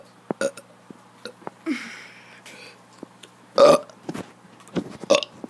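A kid lets out a series of burps, a few short ones scattered around a big loud belch midway and another near the end, with brief quiet gaps between.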